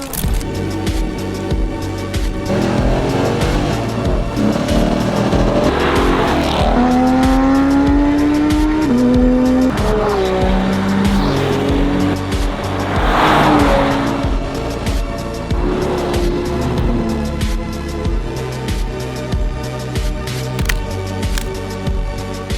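A group of cars on a road cruise pass close and loud, engines revving and rising in pitch through gear changes, with tire noise and overlapping passes filling the whole stretch.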